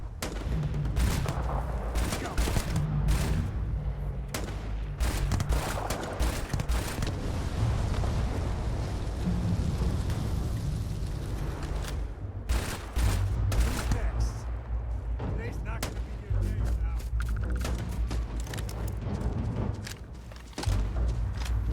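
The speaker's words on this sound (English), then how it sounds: "let's check out the drum beat rifle." Drum beat rifle gunfire in the space game Starfield, a dense, continuous stream of rapid shots layered with other combat noise, loud and sustained throughout with brief breaks, while a voice talks intermittently over it.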